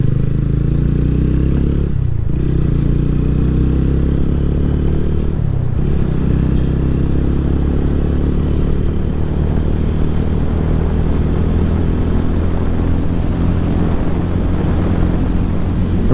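A TVS Ronin 2024 motorcycle cruises at 80 while heavy wind noise roars across a racing helmet, a loud, constant low rumble of rushing air and engine drone with a couple of brief dips.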